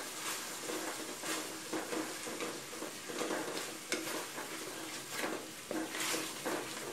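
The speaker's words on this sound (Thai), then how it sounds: "แล้วก็ค่อยๆผัดไปนะคะ" Green curry paste for chicken green curry is stir-fried in a pan, a quiet steady sizzle broken by repeated scraping stir strokes, no voices.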